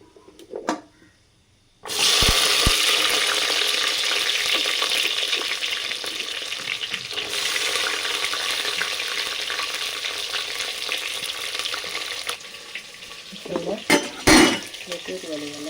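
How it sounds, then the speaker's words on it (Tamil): Mustard seeds, fenugreek and asafoetida hit hot oil for tempering a thuthuvalai keerai kuzhambu, bursting into a loud, steady sizzle and crackle that runs on for over ten seconds, with brief clinks of a utensil near the end. "இப்போ கரைச்சிட்டு தாளிக்கணுங்க. இதில் வந்து கடுகு, வெந்தயம், பெருங்காயம் எல்லாம் போட்டிருக்காங்க."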